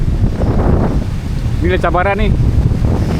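Strong wind buffets the microphone over rolling surf at Pantai Remis beach, a loud, continuous roar that carries throughout, while someone speaks briefly in the middle.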